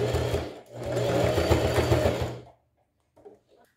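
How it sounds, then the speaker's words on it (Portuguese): A sewing machine runs in two bursts, a short run then a steady stitch of about a second and a half, sewing fabric for a handbag pocket, close and clear before falling quiet with a few faint handling clicks. "Costurei e refilei tudinho"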